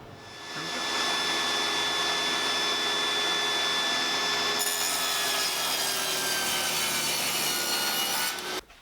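A power saw cuts wood pieces to length against a stop block, droning loud and steady for about seven seconds after a quick spin-up, then winding down abruptly at the end.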